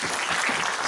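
A church congregation claps together in praise of the Lord, a brief, dense burst of applause heard close and steady with no voices standing out.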